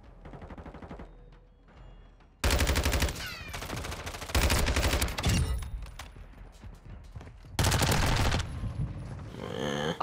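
Loud bursts of rapid video game gunfire in a gun game match, with several weapons firing in long volleys separated by quieter stretches of in-game noise.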